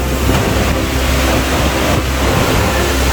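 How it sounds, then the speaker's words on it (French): A violent, flooded river in Réunion during a cyclone roars as a loud, continuous wall of rushing water, heavy wind buffeting the microphone throughout. "Une rivière bien violente."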